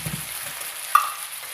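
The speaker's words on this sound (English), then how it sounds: "Stir that up a little bit." Homemade chili con carne with meat and sauce is stirred in a pot, giving a soft, faint sizzle with one small scrape of the spoon.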